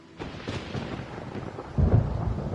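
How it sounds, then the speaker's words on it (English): Thunder rumbles through a stormy scene in the video game Genshin Impact, a steady low roll that swells into a louder, closer crack and boom near the end, with no talking. "Paimon hears thunder!"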